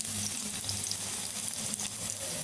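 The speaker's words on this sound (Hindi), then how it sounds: "प्याज को थोड़ा भुनने छोड़ दूँगी कि थोड़ा भुन जाए" Chopped onions frying in a pan while making aloo matar sandwich filling: a steady, close sizzle with faint crackles and occasional stirring scrapes, no voices.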